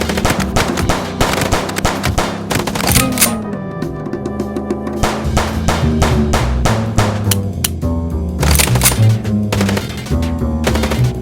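Rapid automatic gunfire and single shots from the Chicken Police video game, loud and continuous bursts with layered echoing impacts throughout, no talking.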